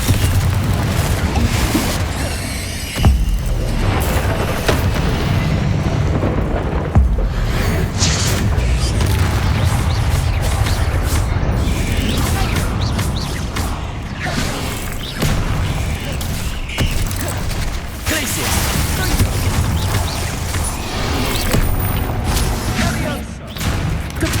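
Loud magical blasts from Confringo fire spells in Hogwarts Legacy, booming repeatedly amid dense combat effects, with a voice shouting spell names over the din.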